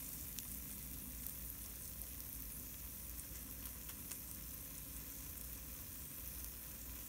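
Johnny cakes of fried cornbread sizzle steadily in oil in a non-stick skillet, a dense, even crackle that holds without a break throughout.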